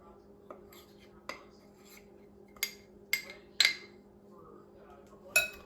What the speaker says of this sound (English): So now I'm just going to mix butter in.